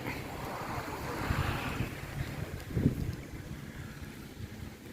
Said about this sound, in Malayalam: ഇപ്പോഴും നല്ല കാറ്റാണ് നല്ല രസമാണ് ഇവിടെ ഇരിക്കാൻ